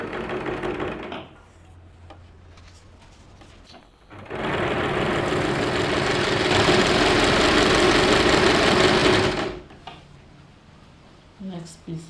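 A sewing machine runs steadily for about five seconds, stitching along a cord on a tulip-petal sleeve, with quieter handling noises before and after.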